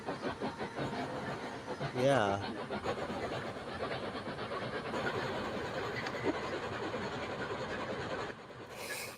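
Flying Scotsman steam train sounds from the video game Microsoft Train Simulator play as a steady rolling rumble with rhythmic clatter and a brief whistle-like tone, a person speaking briefly over it.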